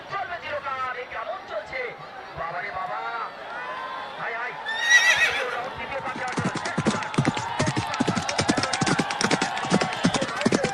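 Hooves drum rapidly as racehorses gallop past during a horse race in Naogaon, Bangladesh, a dense clattering rhythm following a whinny, with a crowd murmuring in the background.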